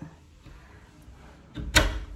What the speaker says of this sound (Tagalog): tapos binubuksan ko po tong pinto.